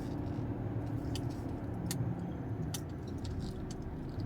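Street traffic before New Year, with cars rumbling and idling close by in a busy shopping area, a steady low engine drone broken by occasional sharp clicks and clinks.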